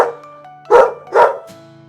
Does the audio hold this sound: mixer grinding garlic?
no